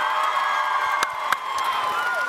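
A TwitchCon convention panel audience cheers and whoops in a loud, sustained crowd roar with scattered shouts and a couple of sharp claps.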